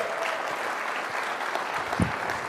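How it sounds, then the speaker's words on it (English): Steady applause from an audience at a business meeting, a continuous wash of clapping hands without pause, fairly loud throughout. "Give them a round of applause, please."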